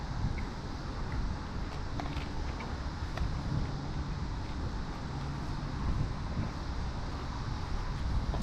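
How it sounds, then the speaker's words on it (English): Outdoor wind buffeting a microphone, a steady, broadband rushing roar that holds for the whole stretch with no talk over it. "it's windy out here"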